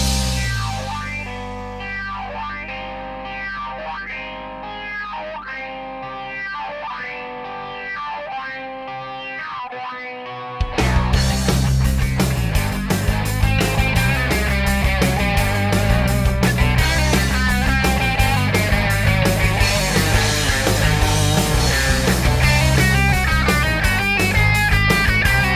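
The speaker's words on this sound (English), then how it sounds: "let's get the playhead right where that phaser special effect starts" A phaser special-effect track in a music mix: swirling, sweeping tones play alone at first, then a loud full band enters about ten seconds in and carries on with the sweeping effect woven through it.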